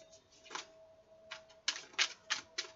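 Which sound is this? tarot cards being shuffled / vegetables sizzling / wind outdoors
tarot cards being shuffled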